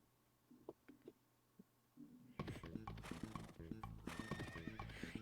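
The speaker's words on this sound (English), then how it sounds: "You spend the next several minutes listening to this beautiful horse song" A horse in a Homestuck animation whinnies while hooves clip-clop, starting as a few faint, sparse clops and then swelling abruptly into a loud, dense, rhythmic run of neighs and hoofbeats.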